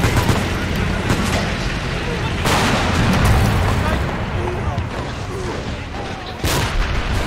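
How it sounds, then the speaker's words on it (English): A field gun fires heavy booms that crack through steady rumbling noise, with louder blasts landing about every few seconds amid a continuous roar, and voices talk underneath. "It's a field gun, it's not artillery."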